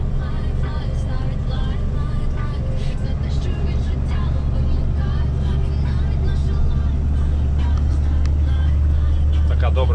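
A vehicle drives along a road near a bridge past Borodyanka. Its engine and road rumble are loud, constant and close throughout, with a voice talking over the noise.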